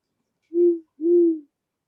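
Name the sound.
owl hooting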